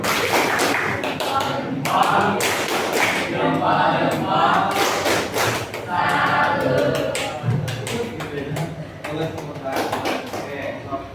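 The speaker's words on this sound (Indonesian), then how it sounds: "Bere tepuk salut coba deh" A classroom of students does a rhythmic "tepuk salut" patterned clap during a Sundanese-language lesson, sharp taps in repeated bursts over a steady murmur of voices and talk.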